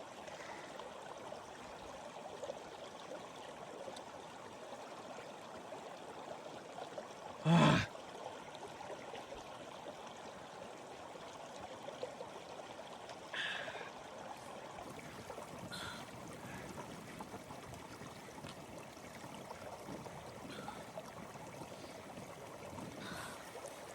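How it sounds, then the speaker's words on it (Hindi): A mountain waterfall stream in Darma Valley flows in a constant broadband rush near the listener, unchanging for the whole stretch apart from a few brief louder thumps. "and every 1 kilometre you will find this beautiful झरना एंड अमेजिंग मिनरल वाटर"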